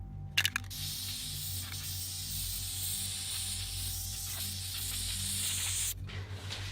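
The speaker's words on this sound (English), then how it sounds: "I'm going to go ahead and spray paint just the rims of it" Spray paint hisses in one long, steady burst onto the rims of a plastic laundry basket. A few short clicks sound at the start and end, close by and with no speech.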